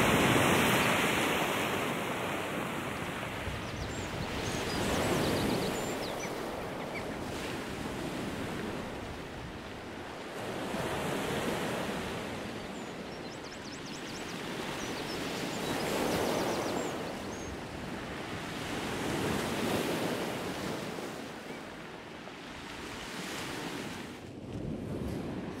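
Rough, rowdy ocean waves surge along the southern Baja coast, a continuous roar that swells and recedes in slow cycles every few seconds with wind noise buffeting the microphone, and no voices.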